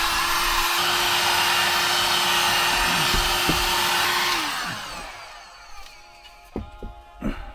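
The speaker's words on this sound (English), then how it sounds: "Here I used some heat gun to heat up the vinyl to get a forming" A heat gun blows a steady, loud whoosh while warming vinyl during a BMW E30 interior job, then cuts off and winds down, leaving a few scattered knocks and handling sounds.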